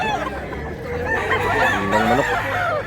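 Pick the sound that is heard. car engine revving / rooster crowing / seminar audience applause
rooster crowing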